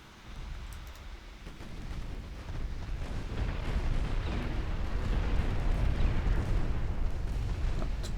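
Naval gunfire aimed at a battleship in a video game, heard as a dense, sustained rumble of distant booms that builds after the opening seconds and keeps rolling steadily, with no speech.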